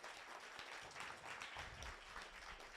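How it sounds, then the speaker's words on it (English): Audience applause for a panel of women at a tech discussion, a steady, soft wash of clapping heard at low level and from some distance, with no talking over it. "Give these wonderful ladies at the panel a round of applause"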